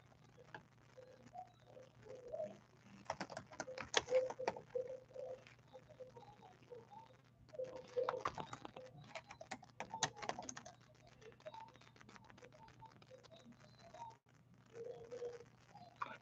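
Faint computer keyboard typing in irregular bursts of quick clicks, pausing between runs, close by and quiet.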